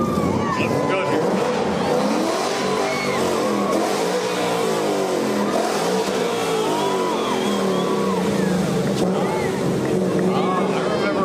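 A 5.0 Mustang drives in a parade at Pearl Harbor, its engine a continuous loud rumble with revving swells that runs under crowd noise and voices talking throughout.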